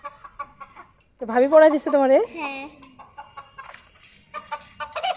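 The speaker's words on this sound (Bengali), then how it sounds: "অনেকগুলো মুরগি তো রে।" Chickens cluck loudly from a coop on a large rooftop, a few drawn-out squawking calls in the middle of the clip, with brief talk before them and faint background sounds after.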